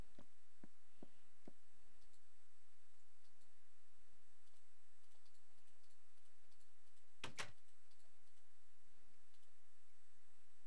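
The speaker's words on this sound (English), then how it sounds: "Sorry if you hear the clicking." Mouse or keyboard clicking during Minecraft play: a few faint, sparse clicks early on, then one sharp louder double click around the middle, over a quiet steady background hiss with no talk.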